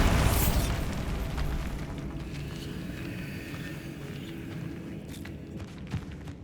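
A Bombarda spell blasts in Hogwarts Legacy, a loud, close explosion at the start that rumbles and fades into lingering debris and ambient game sound.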